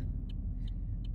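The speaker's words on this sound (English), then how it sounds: "These cars are coming." Cars passing on a road, a steady low rumble of traffic with brief higher whooshes as vehicles go by, continuous and fairly close with no talk.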